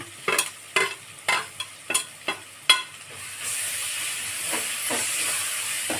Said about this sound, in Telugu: చక్కగా అల్లం పేస్ట్ వేసుకుందాం.